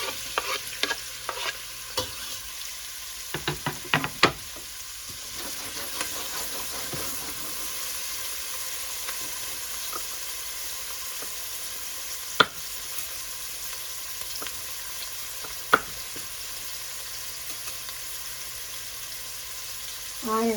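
Chopped carrot sizzling in virgin coconut oil over medium-high heat as a spoon stirs it around the pan, a soft steady fry with scattered clicks and scrapes of the utensil, close and fairly quiet.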